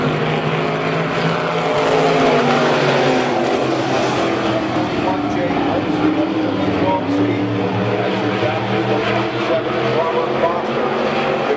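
Thumper division race cars lapping a dirt speedway during a heat race, a continuous loud engine roar with shifting pitch as the pack circles, while an announcer talks over the track.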